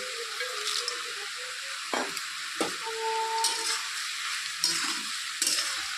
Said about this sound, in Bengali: ডালের বড়িগুলোকে দিয়ে আবার ভালো করে নেড়ে চেড়ে দিচ্ছি